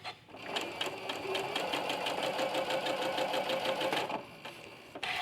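A sewing machine stitching quilting fabric with a presser foot runs steadily for about four seconds in a rapid, even mechanical chatter, then stops, leaving a few faint clicks.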